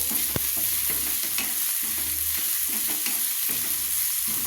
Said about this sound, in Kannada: ಒಂದು ಎರಡು ನಿಮಿಷ ನಾವು ಕೈ ಆಡ್ತಾ ಇದ್ದೇನೆ